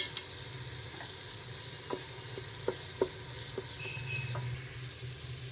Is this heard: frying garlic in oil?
yes